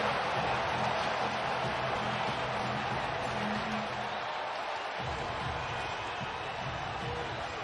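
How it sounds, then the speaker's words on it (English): Large crowd noise inside a basketball arena during an NBA opening-night game between the Lakers and Warriors, a steady loud roar filling the space throughout. "Boy, is it fun to hear a large crowd, the noise of that once again."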